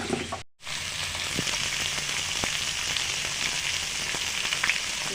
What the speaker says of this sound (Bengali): পুঁই শাকের ডাঁটা আর আলু ভাজতে ভাজতে